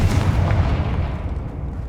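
The Confringo fire spell detonates in Hogwarts Legacy with a loud, booming explosion whose deep rumble fades away over about two seconds.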